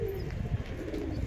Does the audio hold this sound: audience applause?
no